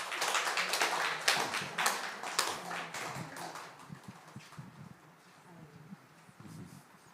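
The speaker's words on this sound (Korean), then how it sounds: "박수로 환영합니다." A church congregation applauds during a Sunday worship service, a faint, reverberant burst of clapping that fades out over several seconds in a large room.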